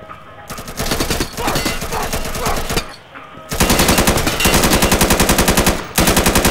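Machine-gun suppressing fire in the shooter game Insurgency comes in loud, rapid bursts of evenly spaced shots, split by short pauses, with a final burst at the end.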